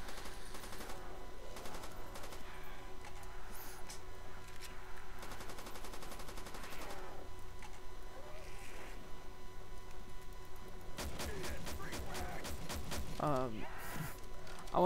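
Bursts of rapid gunfire from a Call of Duty: World at War custom zombies map, with shots aimed at zombies in two clusters of sharp repeated cracks over steady game noise, and voices chatting around them.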